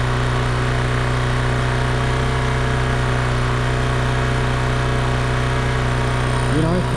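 A 2012 carbureted motorcycle engine idling after starting with the choke still on, a loud, steady, even hum with a constant low throb that never changes pace throughout.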